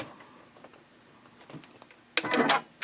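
Sewing machine top stitching around the tab of a fabric pouch, 1/8 inch from the edge: a short burst of rapid stitching rattle near the end, after quiet handling noises.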